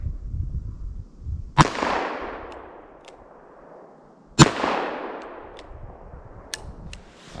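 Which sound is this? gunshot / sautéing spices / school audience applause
gunshot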